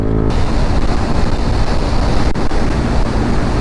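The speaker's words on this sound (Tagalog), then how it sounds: "Mahangin." Strong wind buffeting the microphone, a steady loud rumbling roar that fills the whole clip without pause.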